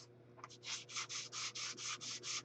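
A shiny book cover is scuffed so it will take ink and white paint, giving about nine quick, even rubbing strokes in a brisk rhythm, close and fairly quiet, with no voices.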